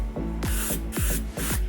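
Three quick bursts of hairspray hiss in a steady rhythm onto hair, close and fairly loud.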